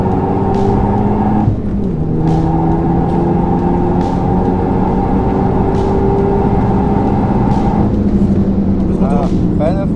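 A Renault Mégane 4 RS Trophy-R pulls at full throttle on a race circuit, its loud engine drone climbing in pitch with brief gear-change dips, while a voice talks over it throughout.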